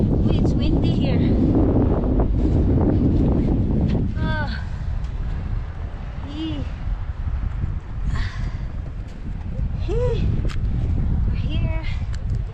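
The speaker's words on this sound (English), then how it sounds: "it's windy here" Wind blows at Rocky Mountain National Park, buffeting the microphone with loud rumbling gusts that ease and return, while people talk and call out faintly over it.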